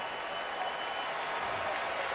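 Sold-out baseball crowd at a Cubs game hosting the Nationals, giving steady, subdued applause that hangs as an even wash of clapping throughout, without any single loud burst.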